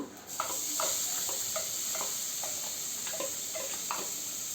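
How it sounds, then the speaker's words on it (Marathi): Chopped onion fries in a pan under a continuous soft hiss, while a utensil stirs it in a rhythmic series of light scraping strokes about twice a second, close and moderately quiet. "कांदा पण आपल्याला थोडासा ट्रान्सपरंट होईपर्यंत फ्राय करायचा आहे"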